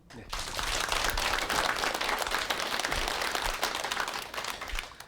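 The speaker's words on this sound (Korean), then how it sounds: "큰 박수 보내주십시오" A studio audience at a televised lecture breaks into loud, sustained applause, dense clapping that starts abruptly and fades out after about five seconds.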